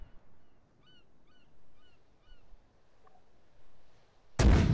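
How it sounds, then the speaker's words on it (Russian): A 2B14 Podnos mortar fires a single loud, sharp round in the Arma 3 video game, a sudden blast at the very end after near-silence broken only by faint bird-like calls. "Выстрел."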